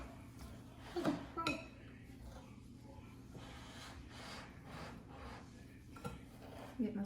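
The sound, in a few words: stirring sugar and strawberries for freezer jam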